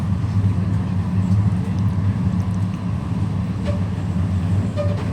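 A passenger train on the Laos-China Railway approaching Luang Prabang Station, heard from on board as a steady low rumble and drone of wheels and carriage, with faint distant voices.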